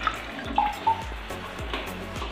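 Tap water from a push-button faucet runs steadily into a sink at a bed and breakfast in Alfonso, Cavite, a close, continuous splashing stream with a few brief clinks over it.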